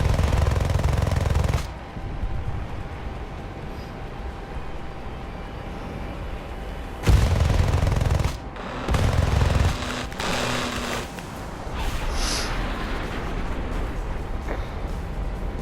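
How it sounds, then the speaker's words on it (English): Sustained rapid 20mm aircraft cannon fire in a video game dogfight between an F-5C and F-4S, bursts of dense mechanical rattle with brief pauses between volleys, loud and close over engine drone. "maneuvering does nothing against your 20mm cannons"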